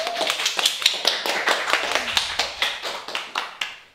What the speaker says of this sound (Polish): I brawa dla Zuzi.